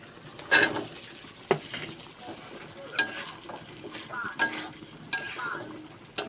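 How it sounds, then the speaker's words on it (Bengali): Potatoes sauté with spices in a pan under a low sizzle, broken by several sharp scrapes and clatters of a utensil stirring at irregular intervals. "আলুটা দিয়ে একটু কষিয়ে নেবো।"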